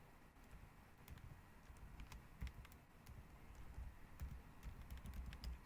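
Quiet typing on a computer keyboard while writing an SQL query in Jupyter Notebook, scattered soft key clicks over a low rumbling background, distant and faint throughout.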